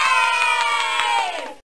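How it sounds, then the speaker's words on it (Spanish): Children cheering in the Arthur's Teacher Trouble video game, a loud, brief burst of high excited shouting from a class that cuts off abruptly. "Todos los de la clase del profesor Ratburn aplaudieron."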